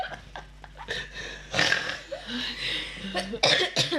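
Several siblings cough repeatedly up close during a spicy noodle challenge, harsh bursts in an irregular rhythm, some forced and mixed with throat clearing.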